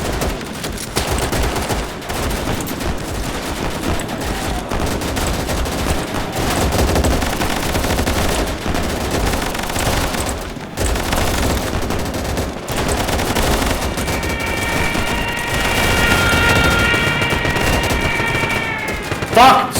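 Gunfire rages throughout a WWII battle video game set at a Volga River crossing, with dense bursts of machine-gun and rifle fire mixed with explosions and battle noise, loud and continuous under a speaking voice.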